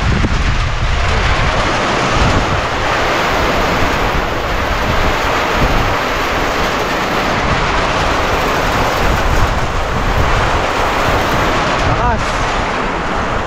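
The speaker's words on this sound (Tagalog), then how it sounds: "Lakas ng ulan." Strong typhoon wind roars over heavy rain at a farm in a dense, constant wash of noise, buffeting the microphone throughout without a break.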